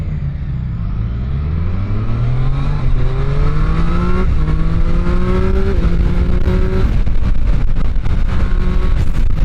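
A Triumph Street Triple 765 RS Moto2 Edition motorcycle engine under a rider, loud and close, climbing smoothly through the revs in rising pulls with brief dips at the gear changes, and no talk over it.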